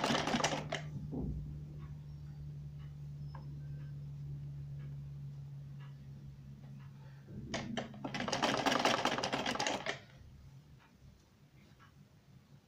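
A sewing machine stitches the hem of a salwar, a steady low mechanical hum and rapid stitching near the start, then a quieter stretch with faint clicks before a louder burst of fast stitching, close with no talking.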